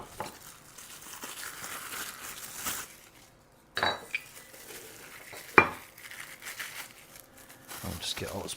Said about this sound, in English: I'll just get all this plastic out of the way